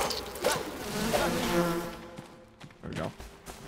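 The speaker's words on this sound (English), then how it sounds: "Oh, bees!" Insect buzzing from bees in the survival game Enshrouded, a steady droning hum with a few sharper buzzes, fairly close, with brief voice sounds breaking in.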